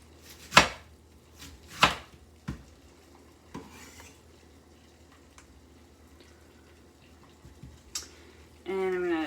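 Knife chopping cabbage on a cutting board, a few sharp separate strikes spaced apart early on, then quieter handling with a short burst of speech at the end.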